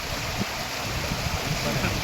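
A river in flood after a short, heavy downpour near Khojewadi village rushes past in a steady, dense roar of churning water that holds at an even loudness throughout.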